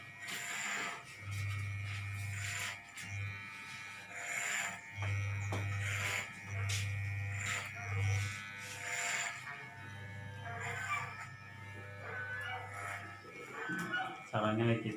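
Electric hair clippers buzzing close by during a self-done haircut, running in stretches of steady drone that stop and restart, heard under someone talking.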